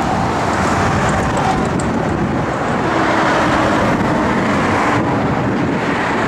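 A 1963 Chevrolet Biscayne engine runs loudly and steadily at close range, a continuous rumbling idle with no talking.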